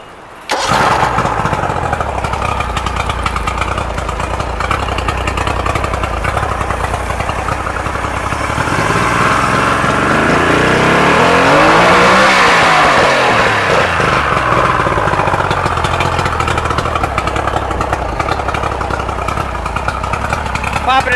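A 90 hp outboard engine on a Nitro Tracker boat cranks, catches and runs loud and close, then revs up and back down in a broad swell midway before settling to a steady run, with people talking over it.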